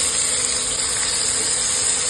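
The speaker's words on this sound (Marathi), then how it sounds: "इथे मी 1 मीडियम साईजचा कांदा बारीक करून घेतलेला आहे, तो टाकत आहे।" Finely chopped onion sizzles in hot oil with cumin seeds, a close, steady hiss that holds level from start to finish with no voices over it.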